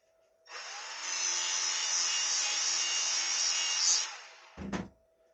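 Abrasive metal scraping as a file dresses a burr off the bar of a Stihl 011 AV chainsaw. One steady, continuous pass lasts about three and a half seconds, followed by a brief, sharp knock, close up with no talking.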